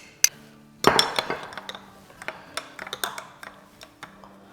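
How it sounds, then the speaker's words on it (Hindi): Metal on glass clinks sharply while unsalted butter and olive oil are stirred together in a dish, an uneven series of close, bright taps and scrapes with no one talking. "इनको मिक्स कर देंगे।"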